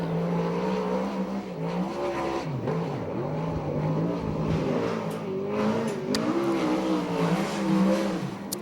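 A USAC/CRA sprint car engine howls around a qualifying lap at Ventura, a continuous loud roar that rises and falls in pitch as it accelerates and backs off for the turns.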